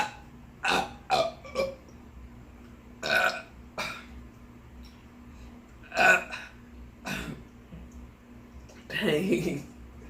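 A series of loud, rough burps after drinking New Belgium Voodoo Ranger Imperial IPA beer, about eight separate belches spaced irregularly, close to the mic over a low steady hum.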